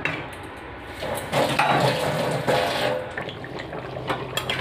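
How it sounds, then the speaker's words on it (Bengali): Country chicken curry gravy boiling in a pot in a home kitchen, a close bubbling and sputtering simmer with uneven surges of intensity. "ঝোলটা ফুটে উঠেছে, একটু ঝোলঝোলি রাখবো।"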